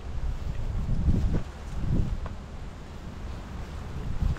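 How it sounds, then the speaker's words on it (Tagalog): Strong outdoor wind gusting against the microphone, with low rumbling buffets that swell and fade in a few uneven waves. "Lakas kasi ng hangin ngayon."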